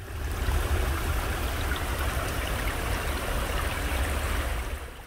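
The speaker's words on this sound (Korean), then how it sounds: "비가 와서 곳곳에 시냇 물소리가 청량하죠?" A rain-swollen stream flows through a forest trail, a steady, full rushing and gurgling of water that carries on unbroken and fairly close, with no voices over it.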